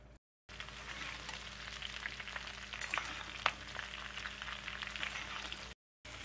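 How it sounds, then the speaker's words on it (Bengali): Five-spice seeds and four or five green chillies crackle in hot oil for a Bengali mixed vegetable curry, giving a steady quiet frying hiss with sharp pops scattered throughout. "একটু তেল গরম করে নিয়ে 5 ফোড়নটা দিয়ে দিলাম, 4-5টা কাঁচা লঙ্কা।"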